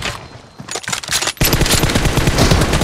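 Gunfire in PUBG Mobile team deathmatch: a few scattered shots, then a sudden loud, sustained automatic burst of rapid rattling fire carrying through to the end.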